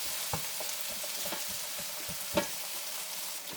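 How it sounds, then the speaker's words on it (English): Potatoes frying in a skillet crackle with a steady soft sizzle, punctuated by several quick scrapes and one louder knock from stirring. "I'm going to let my potatoes start to cook a little bit"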